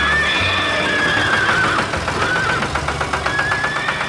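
A cartoon horse neighs in a long, wavering whinny on a farm, loud and close, with a steady engine-like rumble beneath.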